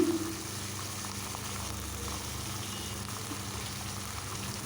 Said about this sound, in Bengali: আমি ভালোভাবে কাঁকড়াটা ভেজে নেব।